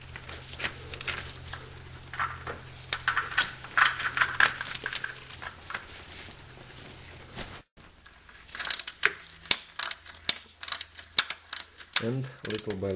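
A hand ratchet clicks in short bursts while tightening the upper starter bolt with its ground point on a 2002 Dodge Neon, close and fairly quiet, with a brief dropout and some rustling near the end.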